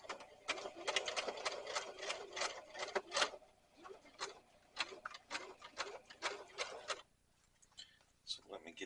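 A sewing machine stitching a hem on a rifle carrier, following the outside of the presser foot, makes fast repeated ticking bursts that stop and start in short runs, with a pause near the end.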